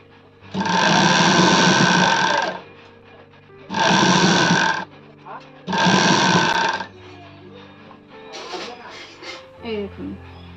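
A sewing machine stitches a readymade sleeveless kurti in three loud, steady bursts of whirring, each lasting one to two seconds with short pauses between, followed by quieter handling sounds.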